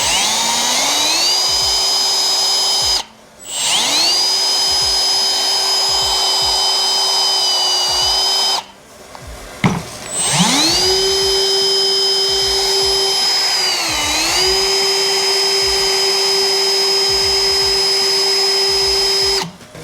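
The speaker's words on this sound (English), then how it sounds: "Hit it with the wire brush." A power-driven wire brush scrubs old engine valves taken from a VG30 motor, making loud, steady, whining runs that rise in pitch as it spins up, hold, and briefly dip under load, split into three bursts by short pauses.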